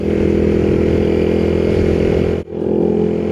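Motorcycle riding over the Ekkamai bridge in Bangkok toward Lat Phrao, its engine droning steadily and loud throughout with a brief dip near the end, no talk.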